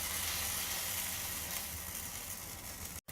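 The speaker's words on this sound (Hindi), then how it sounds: "अब चम्मच की सहायता से बैटर लेके हम सारे सांचे में बैटर को डालेंगे।" Chana dal pancake batter sizzles steadily in a greased nonstick pan over a low flame, a soft, even hiss that runs on without a break before a brief gap near the end.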